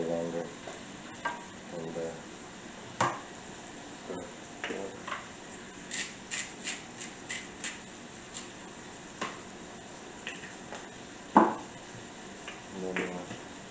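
Onions and carrots cook in a pan on a stove, a soft sizzle running under repeated spoon taps and scrapes against the pan, with a single brief spoken word.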